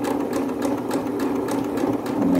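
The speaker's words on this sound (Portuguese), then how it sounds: "Na metade da cianinha eu vou passar a costura." A sewing machine runs steadily, stitching down the middle of ric rac trim with a fast, even mechanical chatter of needle strokes, close and uninterrupted, with no talking.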